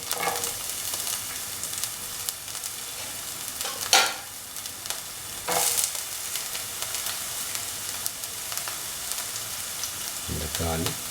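Onions sizzle in a pan for a mushroom, ash gourd and coconut milk stew, a constant moderate hiss with a couple of louder stirring bursts and a brief voice near the end.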